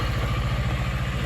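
A 2023 Honda XR150L motorcycle idles close by, a steady low chugging thrum with a fast even pulse and light mechanical clatter, loud and unbroken, no voices.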